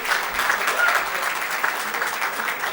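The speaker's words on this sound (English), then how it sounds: "Let's have a huge round of applause for the event management company" Audience applause at a valedictory session of a trade convention, a steady wash of many hands clapping at moderate loudness, sustained for a few seconds without a break.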